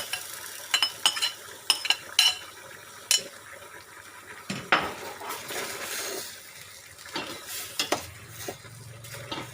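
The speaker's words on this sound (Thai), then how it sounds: "ก็จะใส่หน่อไม้ดองลงไปผัดด้วยเลยค่ะ" Chicken and boiled pickled bamboo shoots are stir-fried in a pan, with clattering spoon strokes and scrapes over a low sizzle, close and fairly clear, with no talking.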